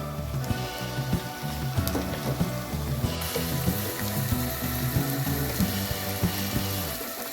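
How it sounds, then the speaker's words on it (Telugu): Chicken and ginger paste fry in a pot for Indian-style chicken biryani. A loud, busy sizzle runs throughout with a pulsing, crackling texture and grows brighter partway through, with no voices. "కలర్ వచ్చినాక చికెన్ వేసుకోవాలి."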